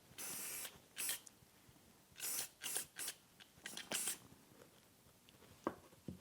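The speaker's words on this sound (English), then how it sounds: "Clipper spray." Short hissing bursts of clipper spray on an Andis Envy Li cordless clipper, several quick sprays in a row with pauses between, close and fairly quiet.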